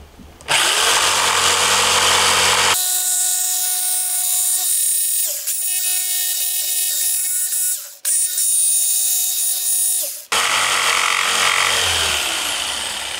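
A jigsaw cuts the seat of a mortise-and-tenon wooden stool, starting loud and continuous, then dropping to a thinner, higher whine with brief stutters before returning to full-bodied cutting.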